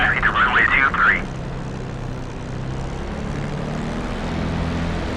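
A P-51 Mustang's piston engine in the flight sim DCS World drones steadily at idle, a low continuous propeller rumble that carries on after a short burst of speech at the start.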